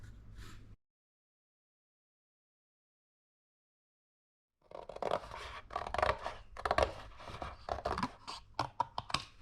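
Scissors snip through thin straw board in a run of crisp, close crunching cuts, uneven in rhythm, after a long silent gap.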